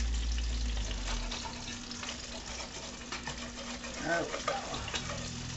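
Meatballs for a meatball stroganoff sizzle and fry in a pan, a steady low crackle with spatula scrapes as they are turned, while a person speaks briefly nearby.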